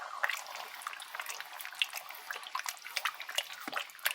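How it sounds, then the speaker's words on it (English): Tomato soup poured into a cooking pot for a meat dish, a thin, continuous splashing trickle with small drips, soft and close, without talk. "And he will add that tomato soup."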